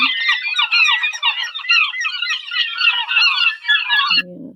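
Herring gulls give a loud, rapid run of harsh laughing calls for about four seconds, close and overlapping, then stop abruptly before a brief low sound.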